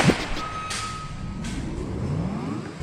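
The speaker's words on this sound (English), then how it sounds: "And here's a sound you don't want to hear when you're reversing." A truck idles nearby, with a faint reversing beep and a short hiss of air brakes over the engine noise.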